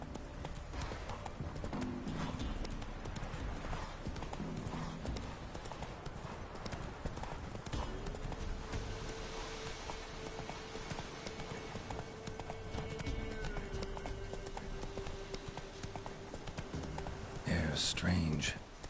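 A horse's hooves clip-clop steadily in The Witcher 3 as the mount trots along, close and continuous under game ambience, with a voice speaking briefly.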